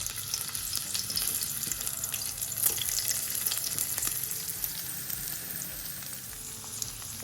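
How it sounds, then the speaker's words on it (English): Sausages frying in rapeseed oil in a pan for a Jamaican breakfast, a steady close crackle and sizzle with small pops and a brief louder spatter, no voices. "I'm gonna fry these lovely sausages."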